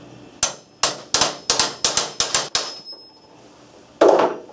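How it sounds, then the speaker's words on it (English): A hammer pounds a steel roll pin back into a cam pocket assembly, nine sharp metallic strikes in quick, slightly uneven rhythm, close and loud, followed by a pause and one heavier final blow. "line up that hole where the roll pin goes through and pound the roll pin back in place"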